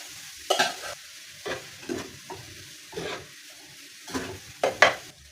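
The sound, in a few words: stir-frying rice in a pan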